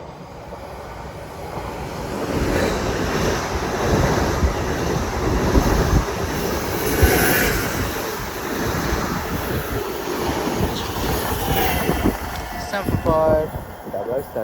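A Greater Anglia passenger train from London Liverpool Street to Norwich runs through Shenfield station at speed, a broad rushing roar that swells and holds, with someone talking over it and a brief squeal near the end.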